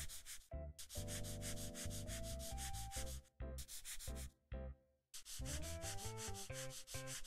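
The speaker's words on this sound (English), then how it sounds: "Just sanding the crap out of this thing" Furniture sanding in the House Flipper video game comes as a loud, rhythmic series of rasping strokes. A sustained tonal backing layer runs underneath, and the strokes break off briefly twice before resuming.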